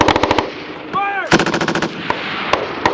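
A Marine Corps machine gun section fires at 29 Palms, loud rapid bursts of automatic gunfire broken by short pauses and a few single shots, with a brief whistling tone between bursts.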